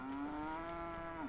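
Cattle in the video game Settlement Survival let out one long, sustained moo that holds steady and then dips at the end, heard close and alone.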